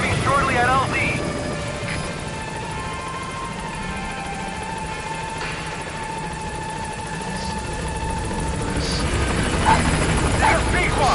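A military helicopter in a video game approaches its landing zone: a steady rotor drone and whine holds throughout and swells louder toward the end, with radio voices talking over it.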